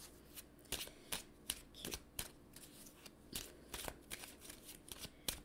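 Message cards being shuffled by hand in a quiet room: a run of soft, irregular riffling flicks and snaps, close and faint, with no talking.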